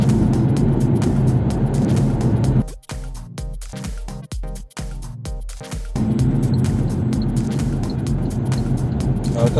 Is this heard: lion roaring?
no